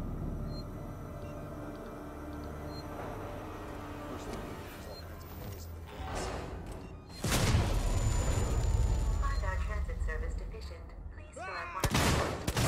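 Gunfire in the video game Alien Isolation: a dull rumble builds, then a loud close blast erupts around seven seconds with ringing decay, followed by another sharp shot near the end.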